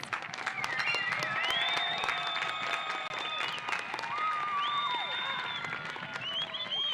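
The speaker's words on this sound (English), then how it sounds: "Another round of applause for our distinguished scholars." A high school graduation audience applauds and cheers for the top scholars, with sustained dense clapping and whistles throughout, fairly loud and close.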